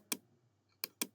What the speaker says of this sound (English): here type services.msc.